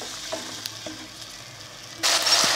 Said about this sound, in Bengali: এখন বন্ধুরা আমি ভালো করে মশলাটাকে কষিয়ে নেব